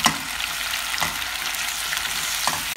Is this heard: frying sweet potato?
yes